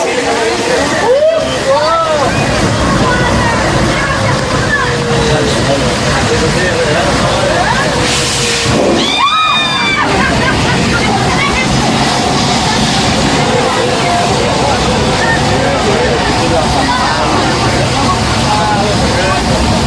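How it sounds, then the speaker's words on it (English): A staged flash-flood special effect on the Universal Studios Hollywood backlot tour, with water cascading down a hillside and rushing under a bridge, a steady loud roaring wash under the murmur of a crowd of riders. "That water is now going under the bridge, cycling into a tank on top of the hill."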